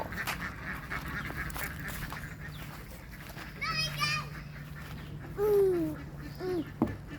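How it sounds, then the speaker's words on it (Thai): Ducks quack now and then amid children's chatter and play, with splashy background noise outdoors as the ducks play in water. "เป็ดมาเล่นน้ำแล้ว"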